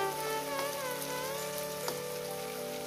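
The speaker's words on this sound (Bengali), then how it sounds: "গ্যাসটাকে আমি মিডিয়ামের থেকে লো করে দিয়েছি, দিয়ে মশলাটা কষাচ্ছি" Spice paste for chicken curry fries in a pan over low heat, giving a steady, soft sizzle and crackle throughout, with a few faint scraping touches and no talking.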